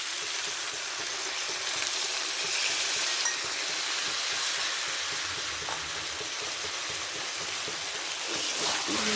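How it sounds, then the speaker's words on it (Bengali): Meat frying and sizzling in a pot with a splash of its own boiling liquid, cooked down for biryani, a steady broad hiss running throughout with occasional scraping stirs. "ভালো করে নাড়তে হবে, কষাতে হবে ভালো করে।"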